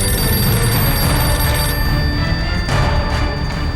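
A telephone bell rings loudly and continuously for a few seconds, a dense, steady ringing with no voices over it.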